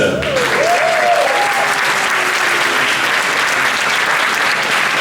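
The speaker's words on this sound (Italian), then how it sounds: "Meritano l'applauso, tutto l'applauso mentre arrivano qua" Steady applause for prize winners at a startup competition awards ceremony, a dense, even wash of clapping throughout, with a brief whistle-like tone rising near the start.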